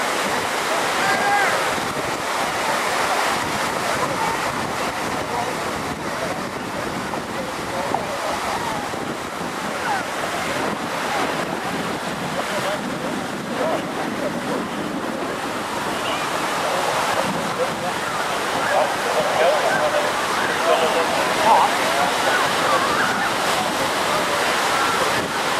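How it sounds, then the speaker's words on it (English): Strong wind at an outdoor airshow roars steadily across the microphone, a loud, continuous rushing buffet with gusty swells and no clear speech. "A lot of wind out here today"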